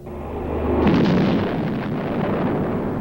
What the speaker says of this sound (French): Sharon, Voss va utiliser le canon dans un instant.